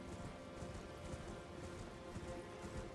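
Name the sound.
rain in Elden Ring video game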